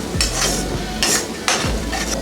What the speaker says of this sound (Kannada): ಈಗ ಇದನ್ನೆಲ್ಲ ಒಂದು 30 ಸೆಕೆಂಡ್ ಅಷ್ಟು ಹುರ್ಕೊಳ್ಳೋಣ. ಸೊ ಬೆಳ್ಳುಳ್ಳಿ ಈರುಳ್ಳಿ ಎಲ್ಲ ಫುಲ್ ಕ್ಲೀನಾಗಿ ಎಣ್ಣೆನಲ್ಲೇ ಬೇಯಬೇಕು.